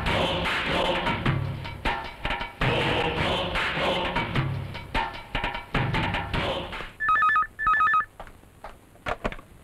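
A telephone rings twice in a Hindi action film scene, electronic trills sounding clearly after a stretch of dramatic music and thumps.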